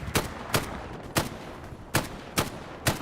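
FG42 rifle fire in the WWII shooter Hell Let Loose: six sharp, evenly spaced single shots, loud and close, with no talk.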